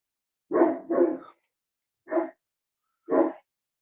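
A human voice imitates a dog's barking: two quick barks, a pause, then two more single barks, loud and close against silence.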